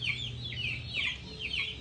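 A Sindhi Aseel rooster clucks in a steady series of repeated, moderately loud calls close by, the rhythmic phrases returning about every half second with no talking.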